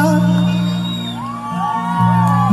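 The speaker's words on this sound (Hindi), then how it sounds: "मुझे हल्ला चाहिए इसमें, क्योंकि ये बतल के लिए, बतल वाले नहीं चिल्लाएंगे तो कौन चिल्लाएंगे" A crowd at a Dussehra stage program, loud whoops and shouting over sustained amplified music, with rising cheers near the end.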